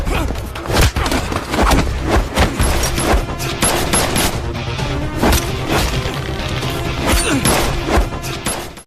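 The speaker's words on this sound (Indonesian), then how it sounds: "senjata yang ditembakkan Wuli nyasar ke tubuh Yan" A loud, nearly unbroken barrage of rapid gunfire mixed with crashes and heavy thuds fills an action-film fight scene.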